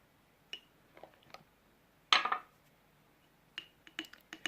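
A spoon scooping alpha arbutin powder into a bowl for a homemade face wash, heard as a few faint clinks and taps around one brighter scrape of metal against the dish, with quiet gaps between.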